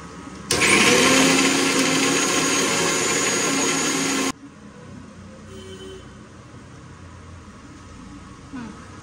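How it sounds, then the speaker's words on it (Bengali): An electric blender grinds ginger, garlic, a small onion and green chilli into a paste, roaring loudly and steadily for about four seconds before cutting off abruptly, followed by quiet kitchen room tone and a faint clink. "আর এখন আমি একটু আদা রসুন আর একটা ছোট পেঁয়াজ আর কাঁচা লঙ্কা পেস্ট করে নিচ্ছি"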